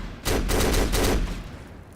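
Sustained burst of G36C assault rifle fire in the shooter game Black, loud and close, rattling rapidly for about a second before trailing off into a fading echo, with no talking.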